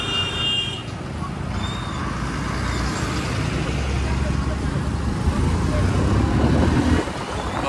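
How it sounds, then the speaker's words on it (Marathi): Dense, steady road traffic roars through the Waghoba ghat, with engines of cars, buses and trucks rumbling continuously and loud throughout, and voices talking over it. "खूप ट्रॅफिक आहे."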